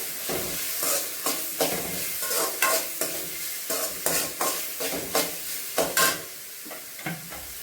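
Diced red capsicum stirred and roasted in a pan with very little oil, a soft steady sizzle broken by repeated scraping strokes of the spatula, close and alone with no voices.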